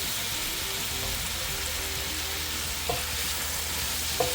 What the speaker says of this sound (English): So now, I'm just gonna add my shrimp.